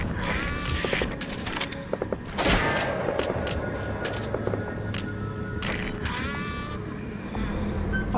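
Sustained gunfire in the video game Metal Gear Solid V: The Phantom Pain, dense continuous shooting with bursts and cracks throughout, mixed with shouting voices and steady background noise.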